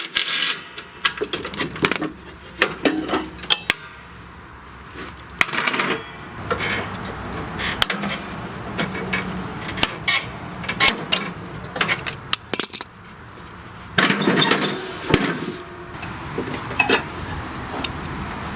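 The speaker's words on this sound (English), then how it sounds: "you will need a ratchet with a 1/2-inch socket to take the belt keeper off" A ratchet with a 1/2-inch socket clicks and clatters against metal while removing the belt keeper from a Troy-Bilt MTD Cub Cadet riding mower deck, with scattered close metallic clinks and bursts of rattling over about eighteen seconds.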